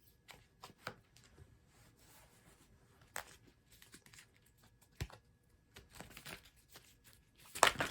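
Tarot cards being shuffled by hand, a run of soft riffling and flicking bursts with brief pauses, close and quiet, ending in a sharper louder riffle.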